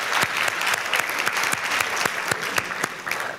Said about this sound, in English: let us give a round of applause to that table